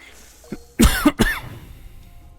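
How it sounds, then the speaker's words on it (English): A person coughs close into a microphone, two or three sharp, loud coughs in quick succession with a throat-clearing edge, then quiet. "Oh, sorry for coughing into the mic."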